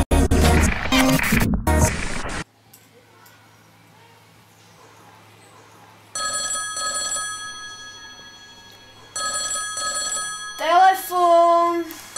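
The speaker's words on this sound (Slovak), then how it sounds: "Telefón." A telephone rings in repeated bursts separated by a quiet stretch, following a loud burst of music and voices at the start; the ringing is clear and fairly close with faint background hum between rings.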